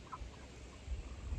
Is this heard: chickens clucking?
yes